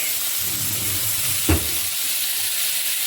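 Fish sizzling in melted butter in a frying pan, a steady soft crackle and hiss with one brief clink near the middle.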